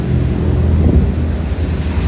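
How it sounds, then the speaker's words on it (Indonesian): Steady seaside wind rustles and rumbles low and continuously, with a soft, even roar and no voices. "Desiran angin,"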